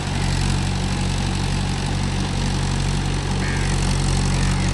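A Mahindra 575 DI tractor with cage wheels runs steadily in a field, its loud continuous engine drone holding an even, unbroken tone throughout.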